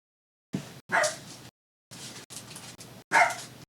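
A dog barks in a quick series of about six sharp, loud barks in two bursts, heard up close with no talking.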